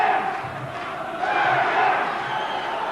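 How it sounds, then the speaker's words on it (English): A boxing crowd at a Victorian lightweight title fight in Moorabbin Town Hall roars steadily behind a fighter, a dense, sustained wall of cheering and shouting with swells but no breaks. "Crowd getting behind"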